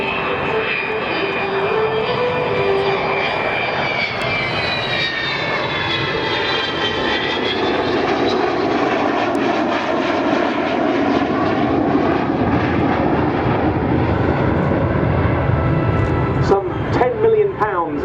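An Avro Vulcan XH558 jet bomber performs a flying display at RAF Waddington, a loud, steady engine roar with shifting whine sweeping through it for the whole stretch, a commentator talking over it.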